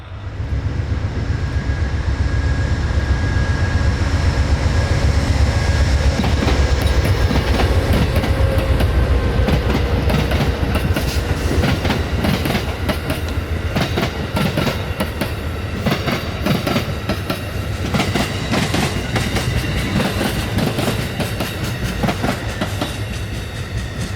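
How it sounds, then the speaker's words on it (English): The Pennsylvanian passenger train passes on a wintry day in Pennsylvania, with a loud, continuous rumble of cars rolling by and rhythmic clickety-clack wheel beats building and persisting nearby. "And the Pennsylvanians coming into town now."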